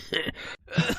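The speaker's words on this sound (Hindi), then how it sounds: "सुबह जब उसकी नींद खुली तो वो जोर जोर से खांस रहा था।" A boy coughs hard after waking in the morning, two rough, throaty bursts separated by a short pause, close and loud with no talk.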